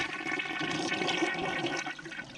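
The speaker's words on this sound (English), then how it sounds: "we're going to flush this and empty" A household toilet flushes to drain its tank before repair, a close, steady rush of swirling water lasting a couple of seconds with no talk.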